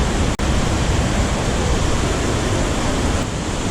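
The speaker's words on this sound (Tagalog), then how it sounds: "Ang ganda ng waterfalls dito." Tapia Falls in Banaue roars as a loud, dense and unbroken wash of falling water, heard up close with no voices over it.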